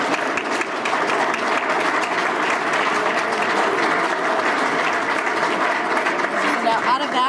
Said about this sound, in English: All right, a round of applause, please.